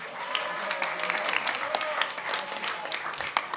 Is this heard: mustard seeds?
no